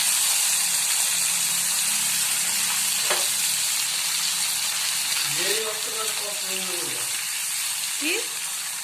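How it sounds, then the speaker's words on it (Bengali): Eggplant slices fry in a pan with a continuous loud sizzle and hiss that holds steady throughout, heard up close, while a voice briefly sounds near the end. "আমার বেগুন ভাজা কমপ্লিট, এখন নামিয়ে নেব।"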